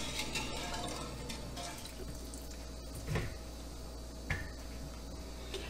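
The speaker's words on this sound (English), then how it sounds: "I'm going to rinse a little bit at a time in cold water" Tomatoes and onions are rinsed under a cold running kitchen tap, with a steady hiss of flowing water and a few faint drips and knocks in the sink, close by, with no talk.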